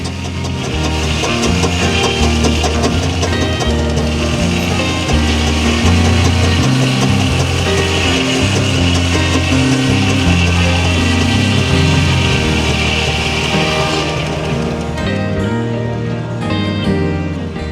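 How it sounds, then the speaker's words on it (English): A 1908 Fowler General Purpose steam engine, number 11699, running at a steam fair on the Shuttleworth estate, with a steady mechanical chug and a rhythmic knock, loud and close. "Our next working engine is a little Fowler General Purpose 11699, built in 1908."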